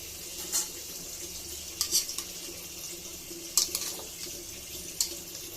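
A utensil stirs bottle gourd and shrimp curry in a pot, with a few sharp metallic clinks against the rim spaced out over a quiet kitchen background.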